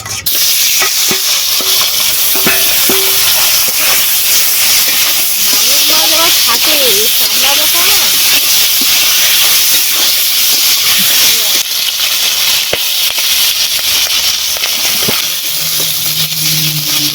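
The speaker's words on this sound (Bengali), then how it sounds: "এবারে মাগুর মাছগুলো ভেজে নেব তেল গরম হয়ে গেছে এবার মাছগুলো দিচ্ছি" Magur catfish pieces dropped into hot oil in a wok, a loud, dense hiss and crackle of frying that persists throughout, with a voice speaking briefly underneath.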